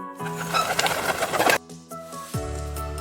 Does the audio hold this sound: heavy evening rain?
no